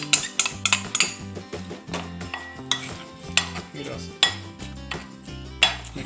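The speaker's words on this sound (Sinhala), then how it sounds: "කෝන් පිටි ටික හොඳට මේකට කලවම් කරගන්නවා" Corn flour batter with chili powder being stirred in a bowl, with repeated clinks and scrapes of a utensil against the dish in an uneven rhythm, close and clear.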